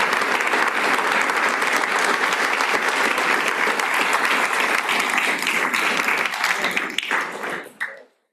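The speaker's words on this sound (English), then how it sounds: "Let's give another round of applause." Sustained, loud applause from the audience at a Middletown Township Committee regular meeting fills the room continuously, then tapers off abruptly near the end.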